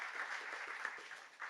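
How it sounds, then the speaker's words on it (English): An audience at a technology showcase panel applauds its sponsors, a steady wash of many hands clapping at moderate distance that holds for the whole moment and swells slightly at the end. "Can I have a round of applause for our sponsors?"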